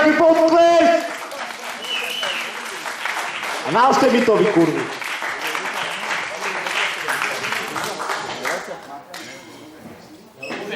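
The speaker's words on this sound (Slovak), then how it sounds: "Poprosím veľký potlesk!" Live audience applause at the close of a talk-show guest segment: a crowd claps loudly and steadily for several seconds while a host talks over it and people call out.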